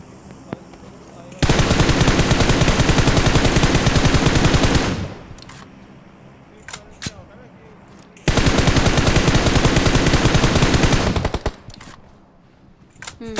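Two long bursts of rapid automatic gunfire in the mobile battle royale game BGMI, each lasting a few seconds with a pause of quieter ambience and faint voices between them.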